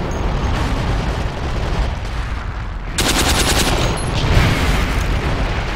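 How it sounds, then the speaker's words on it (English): Tanks blown up by mines in the WWII desert battle game Forgotten Hope 2, heard amid loud, continuous gunfire bursts and a rumbling explosion that swells partway through, all close and dense. "two tanks just got blown up by mine"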